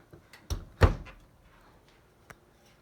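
A washing machine door is pushed shut, a couple of soft quiet thuds landing close together, followed by a faint small click in a quiet room.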